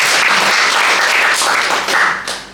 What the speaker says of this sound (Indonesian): Ya, boleh tepuk tangan bagi itu.